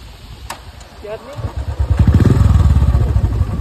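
A motorcycle engine kicks into life up close, sputtering and then settling into a rapid, loud chugging idle, with a brief voice early on.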